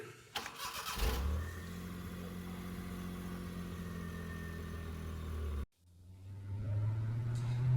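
A vehicle engine cranks and catches, then settles into a steady mid-pitched running hum. After a short break it revs up and pulls away, all fairly close and without talk.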